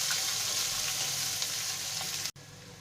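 Chopped onions frying in hot oil with garlic for a tadka dal, a steady dense sizzle with faint stirring scrapes, close and continuous, cutting off abruptly near the end.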